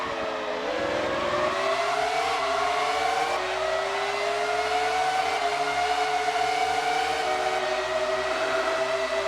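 Formula One race car engines in the PlayStation game F1 World Grand Prix 1999 whine loudly and continuously, pitch climbing through gear changes as several cars scream close behind.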